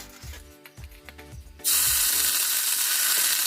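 Onion paste dropped into hot oil with bay leaf, whole dried chilli and whole garam masala, bursting into a loud, sustained hissing sizzle after a few soft clinks and taps.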